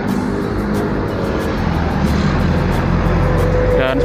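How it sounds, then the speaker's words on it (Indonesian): Busy evening traffic on the road in front of a toll gate in Jombang, East Java, a dense continuous roar of passing vehicles and engines, loud and steady throughout. "Cukup ramai kendaraan di sore hari ini."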